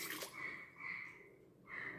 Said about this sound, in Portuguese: eu vou acrescentar aqui um pouquinho da água